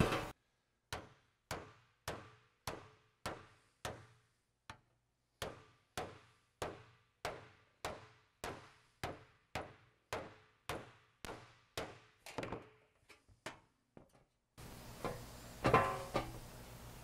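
A hammer strikes the body panel of a 1952 Cadillac convertible in about twenty sharp, evenly spaced metallic blows. A short stretch of rustling and handling noise follows.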